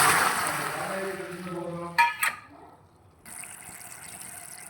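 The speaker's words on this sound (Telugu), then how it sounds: "కొంచెం వాటర్ వేసుకోవాలి." Water poured into sugar in a pan for syrup when making tutti frutti, a brief splash and trickle that stops and gives way to quiet kitchen background.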